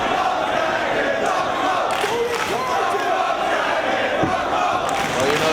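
A wrestling crowd at a Ring of Honor event chanting loudly and steadily, a dense roar of many voices filling the arena without letup, with a commentator's voice under the noise.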